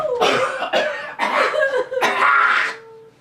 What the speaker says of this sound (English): I'm gonna cough on you.